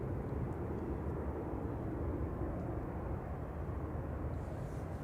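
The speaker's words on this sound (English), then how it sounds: "Lined up and ready to go. Back to Amsterdam is the Embraer E190." A KLM Embraer E190 jet at Manchester Airport powers up for takeoff, a distant steady low roar of engines sustained throughout without variation.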